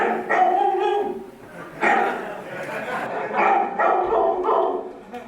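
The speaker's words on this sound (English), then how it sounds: "Why are dogs coming?" Several dogs bark and yip in bursts close by during a stage drama performance, mixed with a human voice, the barking coming in uneven clusters.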